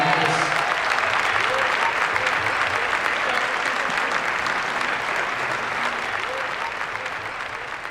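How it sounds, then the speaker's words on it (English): Sustained audience applause filling a hall at a town meeting celebrating local reparations in Evanston, dense steady clapping that carries on throughout and slowly fades toward the end. "Would you clap your hands for our Secretary?"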